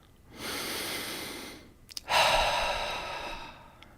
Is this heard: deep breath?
yes